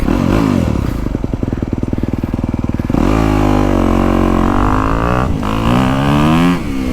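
A 2025 dirt bike, either a KTM 350XCF Factory Edition or a Honda CRF250R Works Edition, ridden on a loop, its engine loud and close, rapping hard then revving and shifting pitch as it accelerates.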